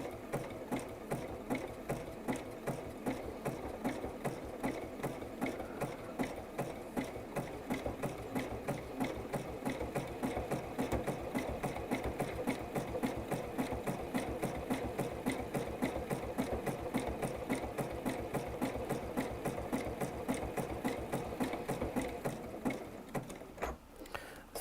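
A sewing machine stitches steadily at a fast, even pace, its needle giving a rapid mechanical clatter over a motor hum that runs close and unbroken before slowing near the end.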